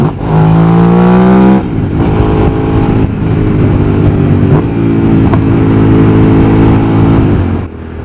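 Motorcycle fitted with a Danmoto exhaust, engine revved hard and loud, with a rising then sustained roar over about eight seconds and a brief dip near the end, no talking.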